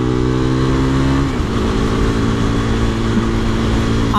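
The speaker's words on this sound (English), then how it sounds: "I want to try out a little bit like in-gear acceleration" A heavily modified KTM RC390 motorcycle pulls hard in gear on a highway, its engine note loud and steady with a rising tone, close and with no voices over it.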